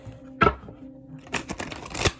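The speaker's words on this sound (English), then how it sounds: "shuffle these cards." Playing cards being shuffled by hand: a sharp riffle burst near the start, then a longer run of papery flutters and taps after a quiet gap, close and fairly soft.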